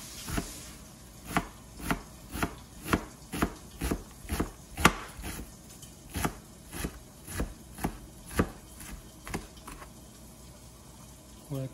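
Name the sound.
knife chopping onion into tiny pieces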